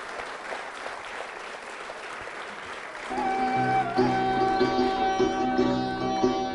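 Audience clapping at a college Valentine's Day quiz show, a steady patter for the first few seconds before a song's music swells in and the clapping continues beneath it.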